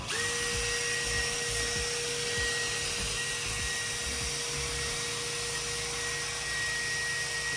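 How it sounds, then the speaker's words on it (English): A small high-speed power tool polishes bolts for a golf cart build, producing a steady, high-pitched whine that runs without break for several seconds, with faint knocks and handling noises underneath. "Polishing bolts."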